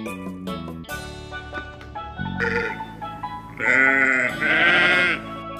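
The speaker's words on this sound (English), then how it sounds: "Sheep." Sheep bleating in a series of wavering, nasal calls, the loudest two near the end, set over a steady musical background with no talk.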